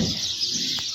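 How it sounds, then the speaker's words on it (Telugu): Faint bird chirps over steady broadband background noise, with a brief higher call near the end; sparrows twittering somewhere nearby. "ఒకసారి మీరైతే వినండి ఆ వాయిస్ పిచ్చుకలది"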